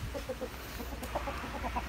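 Young rooster and hens at a Vietnamese poultry yard giving a few short, rhythmic clucks, fairly close and clear over low background noise.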